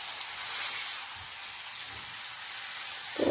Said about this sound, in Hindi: अब मैंने इधर इसे भूनना है अच्छे से, ताकि ये अच्छे से भुन जाए